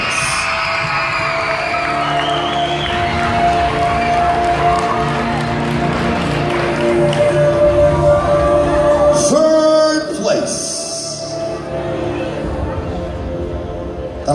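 A large indoor crowd at a cheerleading nationals awards ceremony cheers and shouts continuously, a steady roar of voices with some clapping mixed in and a brief rising tone near the end.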